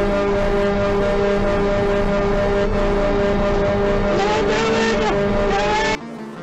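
An 80,000-pound truck with failed brakes rolls down a street, a loud sustained engine or air-horn drone with strained, rising tonal whine that cuts off abruptly near the end.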